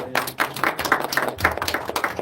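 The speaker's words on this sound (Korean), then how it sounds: "큰 박수 해주세요." Audience clapping at a lecture in a hall, a brief burst of close, dense applause that stays steady before fading out.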